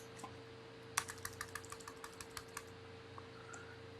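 Keys tapped on a computer keyboard while working in a Word document, a quick run of about a dozen distinct clicks close by, strongest early and thinning out toward the end, with no voices.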